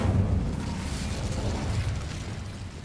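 A fiery Incendio spell from Hogwarts Legacy erupts in a loud, sustained whoosh and rumble, with a dense roar lasting the whole moment and no voices over it.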